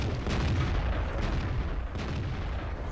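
A tank cannon firing a blind shot in the World of Tanks video game, a heavy low boom that fades into a rumbling, fairly quiet tail with no one speaking.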